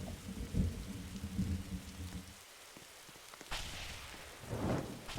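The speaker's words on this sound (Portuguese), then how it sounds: "Ih, vai ter trovões." Thunderstorm in a survival video game set in a forest: steady rain patters throughout, a low rumble of thunder rolls early on, then a brighter crack and rumble returns near the end.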